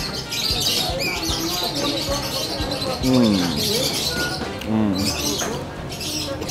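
Birds chirp and coo near an outdoor street food stall in Bacolod, short tweets and pigeon-like calls scattered over a busy background with people talking.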